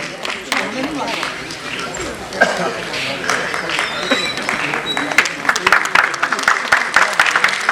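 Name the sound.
audience applause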